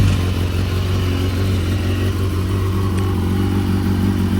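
A BMW S1000RR motorcycle engine idles with a steady, close mechanical drone and a low, even throb, loud and unbroken with no speech.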